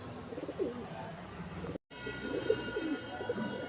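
A female pigeon held in hand near a cage gives soft, low coos, a few rising and falling calls spread through a short stretch of background noise, with a brief silent gap midway.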